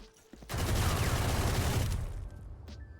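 Rapid burst of automatic gunfire in a video game on the Lotus map, fired through a wall, a loud dense spray lasting about a second and a half, then fading.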